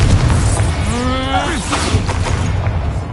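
A Confringo fire-blast spell in the video game Hogwarts Legacy goes off as a loud, swelling magical whoosh with rising tonal sweeps and a booming burst, over a dense background of game effects.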